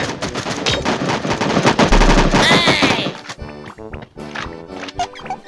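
Rapid machine-gun fire rattles loudly in the Sausage Man battle royale game, a dense burst of shots followed by scattered, sharper single cracks and game effects.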